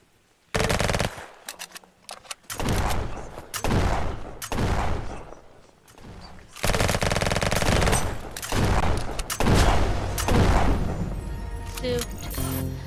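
Shotgun fire in the video game Venge, heavy repeated blasts in loud bursts with short gaps between them, close and dominant, with some speech mixed in.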